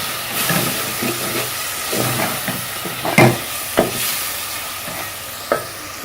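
Tomatoes frying with masala for a tinda (round gourd) curry, a steady sizzle with scraping stirs and a few sharp clinks of a utensil against the pan, close and alone with no talking.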